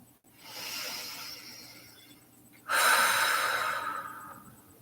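Slow, deep breaths taken during a relaxation exercise: a long airy inhale followed by a louder, hissing exhale, close to the listener, with no talking.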